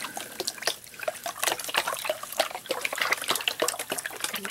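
Water sloshes and splashes in a gold pan shaken with a side-to-side shimmy during panning, a busy run of close, wet slaps and trickles with no talking.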